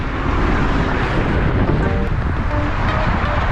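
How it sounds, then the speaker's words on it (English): Heavy wind buffeting a microphone while cycling on a cold, windy day with the wind coming from the left, a loud continuous low roar and rumble filling the whole stretch with no talking. "The wind is coming from the left."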